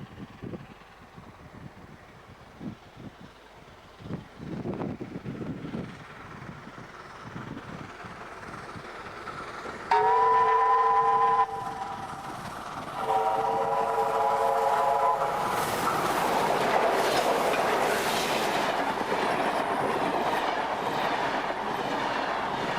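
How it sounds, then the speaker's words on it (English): Two 38 class Pacific steam locomotives on a fast run toward Sydney via Moss Vale, a steady rumbling train roar building to a loud sustained passage with a long chime whistle blast, then continuing heavy rolling noise. "After departing Robertson, the two Pacifics make a fast run back to Sydney via Moss Vale."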